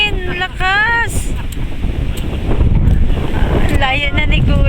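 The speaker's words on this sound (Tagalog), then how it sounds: "Lakas ng hangin!" Strong wind buffeting the microphone outdoors, a heavy low roar that swells louder in the second half, with excited voices and shouts over it.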